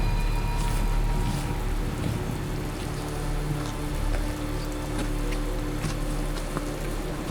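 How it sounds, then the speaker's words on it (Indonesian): Heavy, steady rain pours down on a mountain trail at about 1,900 m in Lampung, a dense continuous hiss of drops drumming nearby surfaces with no voices. "Giliran angin berhenti, hujan pun kembali. Kian deras dan enggan pergi."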